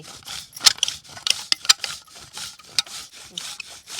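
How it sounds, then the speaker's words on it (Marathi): Dark jaggery being grated by hand for carrot halwa, heard as rhythmic, close rasping scrapes in quick repeated strokes, about a dozen passes. "आता आपण गुळ किसून घेऊया आता हा काळा गुळ आहे आता किसते"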